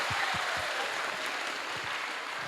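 An audience of students at SMA N 4 Purworejo applauding during a religious talk, a dense, steady wash of many hands clapping with occasional low thumps beneath.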